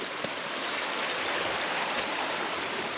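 A creek swollen after about five inches of rain flows steadily, a continuous broadband rush of moving water, close and uniform, with no talking.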